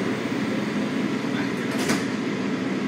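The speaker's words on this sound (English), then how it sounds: "Step back. Doors closing." Washington Metro Red Line Kawasaki railcar doors slide shut with a brief rushing swish over the steady loud rumble of the moving train.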